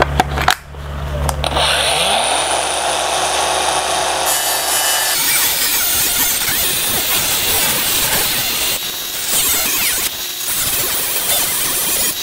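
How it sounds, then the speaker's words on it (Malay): An angle grinder cuts metal rods into 12-inch lengths for a hydroponic Dutch bucket stand. The motor spins up, then gives a loud, close, continuous harsh grinding roar that holds steady for several seconds with slight dips. "Nanti kita akan potong dengan grinder."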